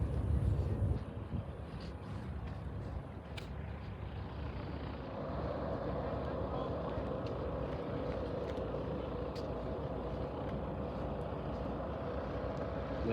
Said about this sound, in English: Now here comes the Cessna.